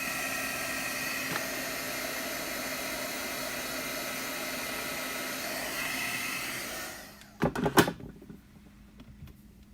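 A heat dryer blows steadily and close over watercolor paint on a Stampin' Up! blossom project, a constant whooshing roar that cuts off near the end, followed by a few clunks and handling noises.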